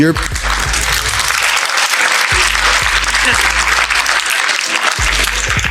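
An audience applauds in a hall during a Q&A, loud sustained clapping with a speaker's voice and low thumps cutting through it.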